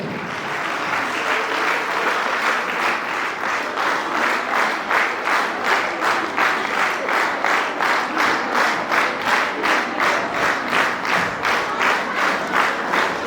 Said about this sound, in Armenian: Եկեք ևս մեկ անգամ ջերմ ծափահարեք։